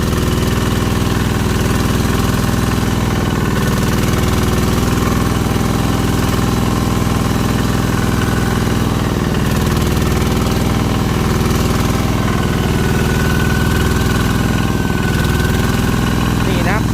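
A Kubota engine in a 4x4 dumper truck used on a durian orchard runs steadily at a loud, close idle-like drone throughout, with no break in the sound.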